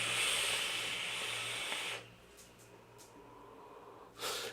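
A long breathy exhale of vapour from a single coil e-cigarette, a soft airy hiss lasting about two seconds, followed by quiet with a few faint clicks and a brief second puff of breath.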